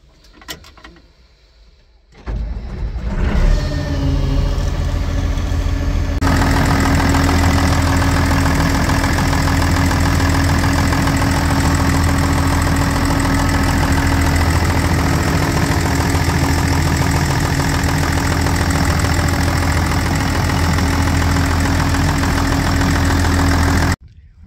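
John Deere 544D loader diesel engine cranking, then starting up and settling into a loud, steady idle after an oil change, running continuously with a low knocking rumble.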